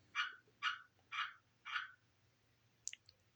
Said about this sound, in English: There's some kind of weird tree frog hanging out outside my window here, and he'll do that every once in a while.